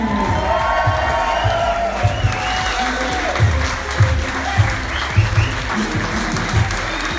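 A crowd of wedding guests claps steadily and cheers, with scattered whoops rising over continuous applause.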